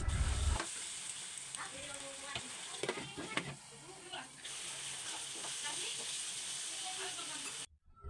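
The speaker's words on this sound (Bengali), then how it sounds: "টমেটোটা কিন্তু আমি অল্প অল্প জল দিয়ে ভালোভাবে কষিয়ে নিচ্ছি" Tomatoes cooking down with spice paste and a little water in a pan, a soft continuous sizzle and hiss with stirring scrapes and clinks, fairly faint and close, ending abruptly.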